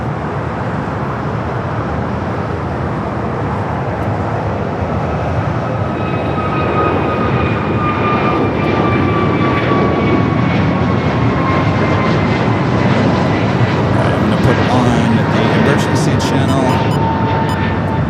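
Delta Air Lines jet airliner at LAX, a loud sustained roar of jet engines that rises and shifts in pitch, with a radio or spoken voice running underneath.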